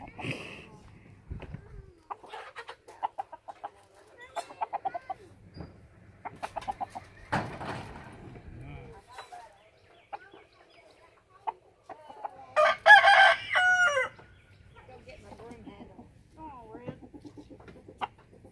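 A rooster crows and clucks in bursts while being chased, with scattered footsteps and people calling out and talking around it; one loud squawking outburst stands out near the end.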